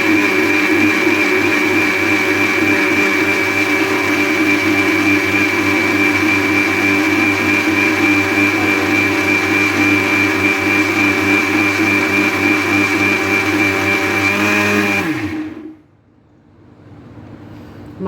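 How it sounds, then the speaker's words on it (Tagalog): A kitchen blender purees green curry sauce, a loud steady motor whir held for about fifteen seconds before spinning down abruptly into near silence. "I-blender ko naman siya ngayon"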